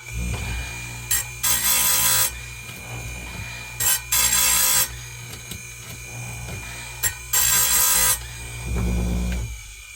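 A bench grinder sharpens the teeth of a chainsaw chain in a shop, giving repeated short, loud bursts of rasping contact, each about half a second to a second long, separated by the steady drone of the running motor.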